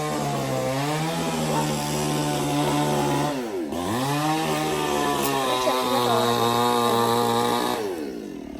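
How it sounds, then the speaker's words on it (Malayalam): A chainsaw cutting tree branches runs loud and close with a steady harmonic whine, its pitch dipping briefly as it bites into wood, then tapering off near the end. "മരം മുറിക്കുന്ന ആട്ടോ കേൾക്കുന്നത് മരം മുറിക്കുന്നതല്ല ചില്ലകൾ മുറിക്കുന്നത്"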